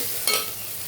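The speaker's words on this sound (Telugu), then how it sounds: "అల్లం వెల్లుల్లి పేస్ట్ వేస్తున్నా" Ginger garlic paste frying in hot oil for chicken curry, a brief burst of sizzle flaring up near the start and then settling into a soft, steady hiss.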